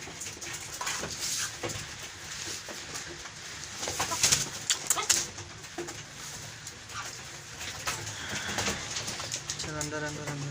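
Chukar partridges in a breeding cage, one kept under a cage and another loose nearby, give intermittent calls and soft clucks amid rustling, with a person talking in the background.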